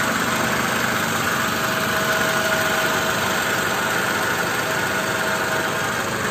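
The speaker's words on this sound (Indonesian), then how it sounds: "Teman-teman bisa dengerin mobilnya, suara mesinnya halus dan tidak bergetar." A Toyota Camry engine idling smoothly without vibration, a steady, even hum recorded up close that holds constant throughout with no voices.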